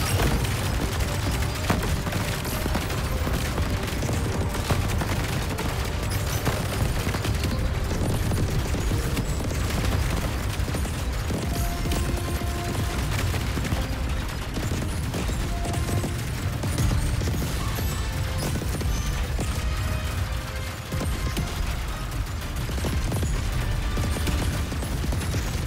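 Spaceship weapons firing in the twin-stick shooter CYGNI, with dense continuous rapid fire, booms and mechanical clatter layered over game music throughout, loud and unbroken.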